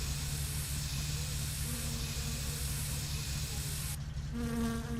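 A steady video-game fly buzz hums continuously, close and droning, with a higher electronic tone joining near the end.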